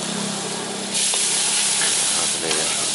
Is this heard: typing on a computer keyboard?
no